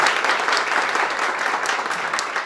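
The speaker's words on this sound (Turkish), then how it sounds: "kocaman bir alkış istiyorum" A large audience welcomes guests with a big round of applause. Close, loud and continuous, the clapping forms a thick wash with no pauses.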